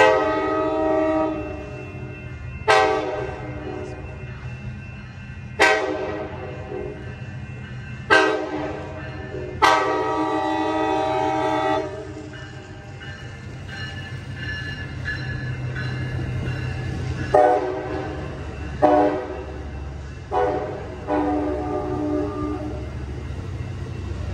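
Several loud, sharp horn blasts from a nearby arriving Amtrak San Joaquin passenger train ring out in short bursts at Oakland Jack London Square station, a rapid cluster early on and another later, over a steady engine rumble.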